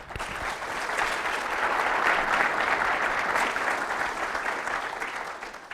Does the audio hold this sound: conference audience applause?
yes